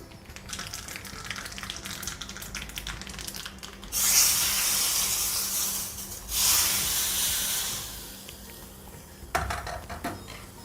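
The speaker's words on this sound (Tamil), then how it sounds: "1/4 ஸ்பூன் கடுகு போடுறேன்." Mustard seeds dropped into a spoonful of hot ghee give a loud, hissing sizzle in two strong bursts with a brief dip between, then fade to a quieter crackle with a short flare near the end.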